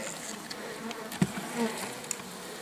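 Honey bees buzz in an opened hive during a colony check, a close, continuous droning hum with individual bees flying past the microphone; no talking.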